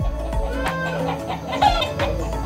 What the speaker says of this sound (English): The roosters are very noisy this morning.